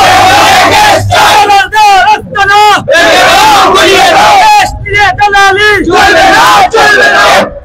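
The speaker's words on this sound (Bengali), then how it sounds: "দালালদের বিরুদ্ধে যেহেতু স্লোগান দিয়েছেন" A rally crowd shouts slogans against brokers in loud, rhythmic chants. Voices rise in waves, pause briefly, then surge again, and the chanting stays close and fills the space throughout.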